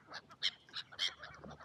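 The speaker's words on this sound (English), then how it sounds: "Are those the ones, the black faces, the Canada geese?" Canada geese in a park honk in a short cluster of several nasal calls, fairly faint and somewhat distant, over a quiet outdoor background.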